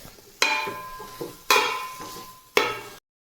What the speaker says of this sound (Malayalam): ആ പൊടി നല്ല പോലെ ഒന്ന് പിടിച്ച് വരുന്നവരെ നല്ല പോലെ ഒന്ന് ഇളക്കി കൊടുക്കുക